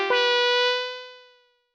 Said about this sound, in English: So I got a little synth sound that sounds something like this.